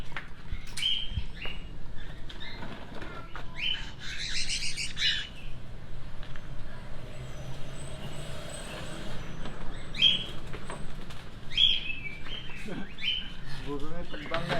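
Several short, high chirps from a cockatiel ring out at intervals over a steady low rumble of background noise, with a faint flutter of wings as the bird flies.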